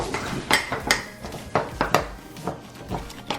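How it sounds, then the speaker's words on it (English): A spoon stirring crushed Oreos and milk in a dish, with repeated clinks and scrapes of metal against the container at an irregular rhythm, close and fairly loud, with no talk. "And now we're going to stir it together."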